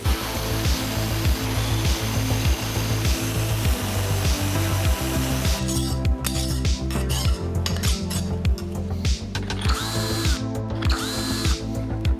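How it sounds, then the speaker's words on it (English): An angle grinder cleans up messy metal T-plates, giving a loud, steady power-tool whine over a pulsing low rhythm, with sharper metallic scraping toward the end and no talking. "I'm going to go ahead and clean them up with an angle grinder"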